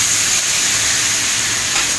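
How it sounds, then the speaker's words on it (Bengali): Hot water poured into a meat and papaya curry sizzling in a pan, giving a loud, continuous steamy hiss up close with no talk. "তো এবার আমি একটু জল দিয়ে কষাবো"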